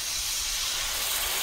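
A splash of water poured onto spices and cashew paste frying in oil gives a loud, continuous close-up hiss, like rushing steam, that lasts the whole moment.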